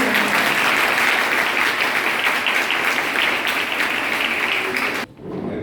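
An audience at a Safer Internet Day event in a girls' college hall claps steadily, a dense, loud wash of applause that carries on for about five seconds and then cuts off abruptly.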